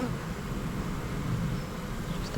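Honey bees hum in a steady, close, low drone throughout a hive inspection of a poly hive that has lost its queen, with no voices.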